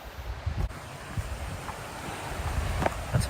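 Water flows steadily along a stream at a campsite trailhead, a continuous rushing wash with gusts of wind buffeting the microphone and a few faint knocks on top.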